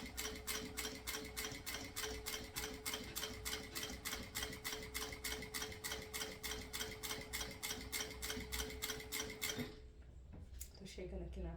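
Sewing machine stitching a synthetic handbag with a fast, steady mechanical rhythm of regular ticking stitches for about ten seconds, then stopping abruptly, leaving a few faint clicks near the end.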